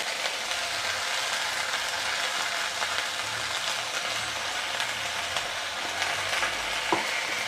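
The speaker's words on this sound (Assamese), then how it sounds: "এতিয়া ভালদৰে লৰাই অকণমান নিমখ দি দিম।" A spatula scrapes and stirs taro paste in a frying pan, producing a steady close hiss and sizzle with soft scraping throughout and a single sharper knock near the end.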